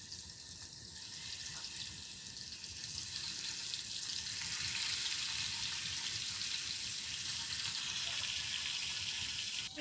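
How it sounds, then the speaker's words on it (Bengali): Marinated rohu fish pieces frying lightly in a pan, a soft continuous hiss and crackle that rises a little midway and stays fairly faint and steady, with no speech over it. "এখন আমি রুই মাছগুলোকে ভেজে নিচ্ছি।"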